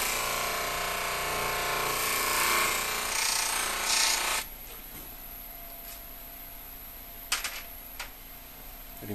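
Polishing with a rag wheel charged with polishing paste, a steady broadband whir and rub that runs loud for about four seconds, then drops to a quieter hum with a few sharp contact scrapes later.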